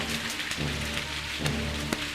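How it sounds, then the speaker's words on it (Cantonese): Heavy rain pours steadily in a dense, even hiss of drops striking surfaces, loud and unbroken throughout, with a few sharper spatters standing out. "天搖大雨"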